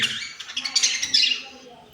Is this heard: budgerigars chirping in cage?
yes